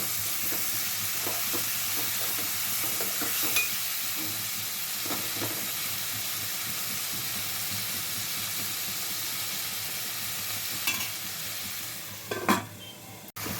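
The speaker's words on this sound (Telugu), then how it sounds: "టమాటాలు బాగా మగ్గుతున్నాయండి ఆయిల్లో" Tomatoes frying in oil in a pan for an old-style tomato gongura curry, a continuous even sizzle and hiss up close, with a few faint stirring knocks and a clatter near the end.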